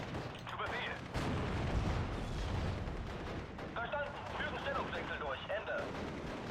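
In the Steel Division: Normandy 44 war video game, a StuG assault gun fires amid ongoing battle, with heavy booming shots and a rumbling din of gunfire and explosions over a dense background, while someone talks throughout.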